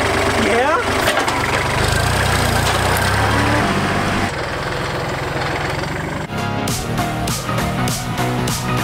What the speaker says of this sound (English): We're gonna get the bush hog hooked up, get to doing some mowing.